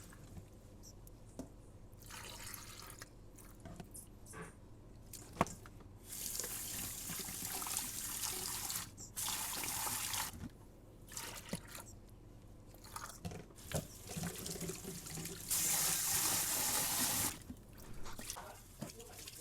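Tap water runs into a kitchen sink while raw oxtail is rinsed and cleaned, with bursts of flow and dripping that come and go at close range, along with some handling noise.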